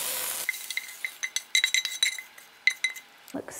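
Cooked onions shifted from a pan into a pasta bowl with a utensil, a run of light clinks and scrapes against dishware in a kitchen, close and fairly quiet, with no one talking.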